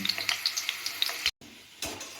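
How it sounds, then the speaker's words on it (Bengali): Potatoes fry in hot oil in a home kitchen, giving a close, steady crackling sizzle that drops out briefly and then resumes. "আলুটা লাল লাল করে ভেজে নিলাম,"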